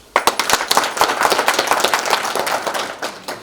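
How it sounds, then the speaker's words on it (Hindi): People at a water supply operation and maintenance training session clap loudly and close by in a brisk, steady burst of applause that lasts about three seconds and tapers off at the end. "पहले दिन के लिए तालियां।"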